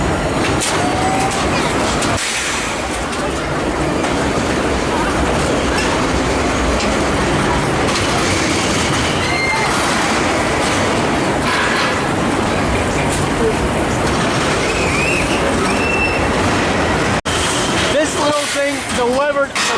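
Roller coaster at the Foire de Nancy funfair, a loud continuous rumble of wheels on track with rattling and clatter throughout, rising into sharper clanks near the end, with a voice talking over it.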